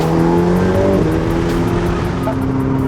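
A Ferrari 488 Pista engine drones and revs loudly and close, its pitch sliding down and back up with a rough exhaust note.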